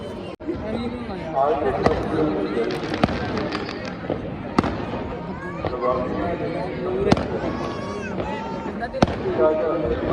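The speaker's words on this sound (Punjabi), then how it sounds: "ਹਾਂਜੀ ਮਿੱਤਰੋ ਚੱਲ ਗਏ ਨੇ ਪਟਾਕੇ" Firecrackers set off during a Prakash Purab celebration at Tarn Taran Sahib: repeated sharp bangs at irregular intervals, some loud and close, over steady crowd chatter and voices.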